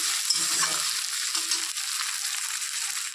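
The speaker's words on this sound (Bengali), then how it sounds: "পেঁয়াজটা যতক্ষণ না একটু ব্রাউন ব্রাউন কালার হচ্ছে ততক্ষণ এভাবে ভাজতে হবে" Onions frying in oil until brown, a constant close hissing sizzle that carries on without a break, with a few soft stirring scrapes near the start and no voices.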